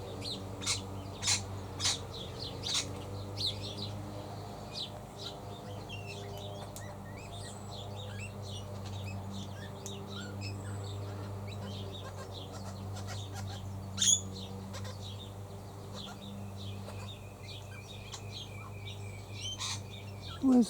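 Birds calling in Australian jungle, king parrots and kookaburras among them, with sharp chirps and tweets scattered over a steady low background hum, fairly faint and unhurried, with no voices.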